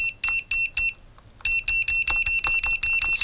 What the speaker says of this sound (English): How fast it is, the continuity test.